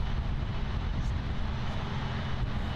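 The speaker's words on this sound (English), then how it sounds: "That was a Boeing 757-200 wearing the new United livery." A Boeing 757-200 airliner in United livery roars steadily at Miami International Airport, a loud continuous broadband engine rumble with no break across the short stretch.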